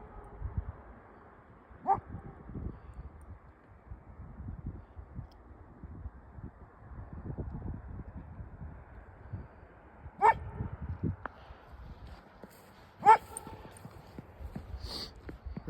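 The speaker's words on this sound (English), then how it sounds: "There's Nigel barking at somebody." A few isolated dog barks ring out in the distance, spaced several seconds apart, over a quiet snowy outdoor background in Billings, Montana, with faint rustling and footsteps.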